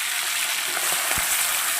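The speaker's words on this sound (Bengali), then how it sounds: "পাঁচশো চিংড়ি মাছ এনেছিলাম হাফ দিয়ে দেব ভাজা হতে থাক" Prawns hit hot oil tempered with dried red chillies and black cumin, giving a loud, dense sizzle with a few sharp crackles near the end, close up and with no talking.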